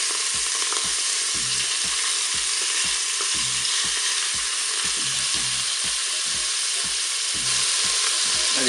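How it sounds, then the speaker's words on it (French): Pork meatballs browning in a Cookeo multicooker, a dense, steady close sizzle of frying with regular soft knocks of stirring throughout. "on va faire dorer les boulettes"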